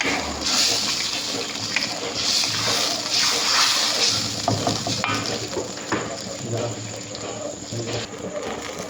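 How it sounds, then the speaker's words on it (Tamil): Gravy with egg and coconut milk bubbles in a pot, a steady close simmering and sizzling hiss with occasional stirring scrapes throughout. "நம்மளோட கிரேவி வந்துட்டு கொதிக்க ஆரம்பிச்சிட்டு"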